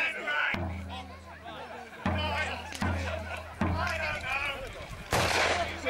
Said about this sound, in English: now the British artillery attempt to batter down the tops of that wall